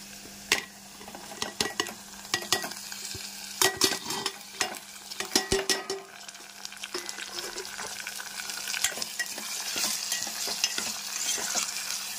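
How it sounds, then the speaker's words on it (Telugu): Green chilies and tomato are stirred in a frying pan for a tangy, spicy okra, egg and onion curry, with a spoon scraping and clacking against the pan in irregular bursts over a steady close sizzle. "ఇప్పుడు పచ్చిమిర్చి వేసేద్దాం, అలాగే టమోటా కూడా వేసేద్దామండి."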